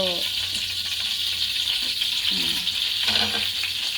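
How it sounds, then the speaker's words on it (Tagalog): Dried fish (tuyo) frying in oil, a bright continuous crackling sizzle with occasional stirring clatter, steady and close, with brief low voice sounds underneath. "magluluto tayo ng tuyo"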